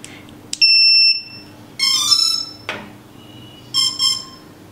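Electronics on a homemade RC drone beep after the battery is connected, a series of loud, shrill tonal beeps and chirps in short bursts with pauses between, close up and without speech.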